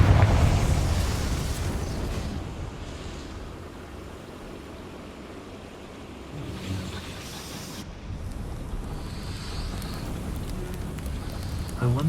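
A Confringo fire spell in Hogwarts Legacy erupts in a loud roaring blast at the start, then decays into a crackling, rushing fiery wash with a smaller flare partway through.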